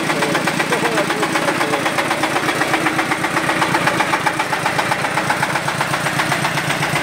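A Zubr monster 4x4 tractor engine runs close by, a loud, steady chugging with a rapid, even knocking pulse throughout and no voices heard.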